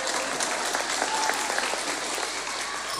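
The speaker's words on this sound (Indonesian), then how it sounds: "tepuk tangan dong bocah" Applause from a congregation at a lively religious sermon, a thick, continuous burst of many hands clapping close by, steady throughout with faint voices underneath.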